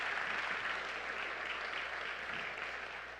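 Sustained applause from a large audience, a dense wash of clapping that holds steady and slowly begins to fade.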